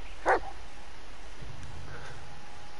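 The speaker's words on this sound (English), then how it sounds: "Listen to his barking and watch his body language." A dog companion in the video game Blair Witch gives a single short, sharp bark near the start. Quiet ambient game noise follows.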